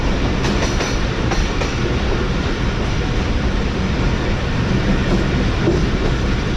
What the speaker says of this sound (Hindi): तो ट्रेन हमारी आहिस्ता आहिस्ता अप्रोच बना रही है